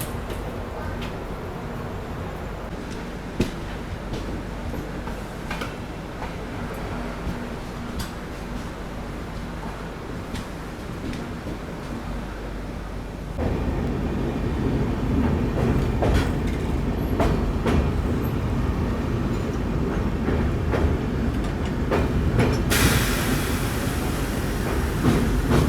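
The Deccan Queen express rolls along rain-soaked tracks near Pune, a steady rumble with rhythmic clickety-clack of wheels over rail joints that grows louder partway through and continues without pause.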